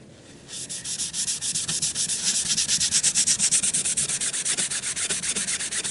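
A gun stock scrubbed with a Scotch-Brite pad and orange cleaner: steady rapid back-and-forth rasping strokes, close and loud, continuous throughout with no voices.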